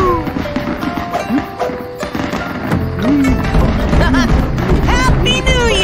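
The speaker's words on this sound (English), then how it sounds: "did you bring your fireworks for the New Year celebrations" Fireworks go off in a cartoon Lunar New Year celebration in the Dr. Panda game, with crackles and pops mixed into busy, playful game music and chirpy effects throughout.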